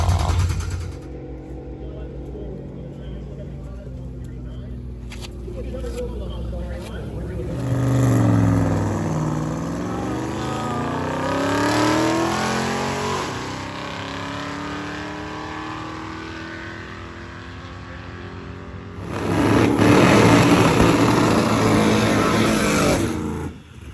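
A drag racing car makes a full pass at Rocky Mountain Race Week. An engine drones at first, then surges loudly and rises through rapid gear shifts, fades, and roars again near the end, with people talking over it.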